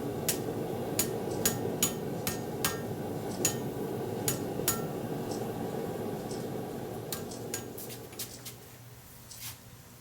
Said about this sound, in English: Just nice easy tapping to get it pretty close.